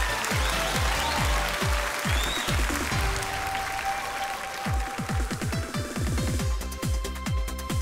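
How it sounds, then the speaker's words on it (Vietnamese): Audience applause greets a contestant at a men's pageant swimsuit round in Las Vegas, a steady mass of clapping layered over a thumping, pulsing music track. "Một tràng vỗ tay thật lớn để chào đón số báo danh số 8"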